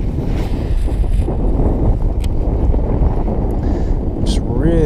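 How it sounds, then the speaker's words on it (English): Strong wind rushes over open water around a small fishing boat on a November lake, buffeting the microphone with a loud, continuous roar and faint splashes beneath. "I'm just really praying this wind dies down a little bit."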